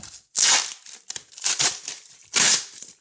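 Packing tape is ripped off a box in three loud, sharp tearing pulls, with crinkling and handling noises between them.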